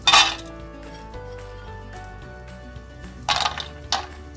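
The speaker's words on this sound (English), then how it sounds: "we're going to first throw in a handful of cashew nuts" A handful of cashew nuts hits a frying pan, giving a sharp metallic clatter at the start and another burst of clinks near the end, with quieter kitchen sounds between.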